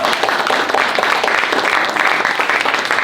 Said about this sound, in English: Wow, applause.